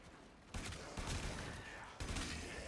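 Telos Boltor gun in Warframe firing nonstop, a dense continuous stream of rapid shots, loud and close, with brief surges as bursts restart.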